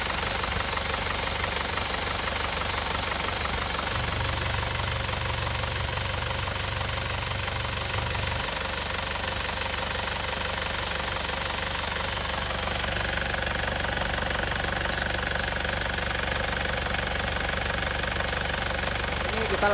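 An Isuzu Panther engine, recently repaired after overheating, idles with a steady, even mechanical rumble and clatter that runs throughout at close range.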